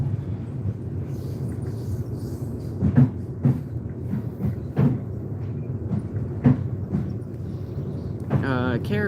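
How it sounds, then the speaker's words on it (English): Train wheels rumble low and steady, with several sharp clunks spaced irregularly as the carriages pass over track joints. "Crossing over the tracks."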